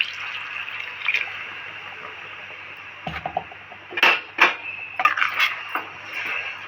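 Water poured into ground masala in a pan for Andhra-style stuffed brinjal curry, a hissing trickle followed by a few splashy stirring clatters, close and fairly loud.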